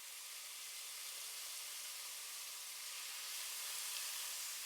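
Marinated beef cubes sizzle in hot oil in a pan at high heat, a quiet, even, steady hiss with no breaks and no voices over it.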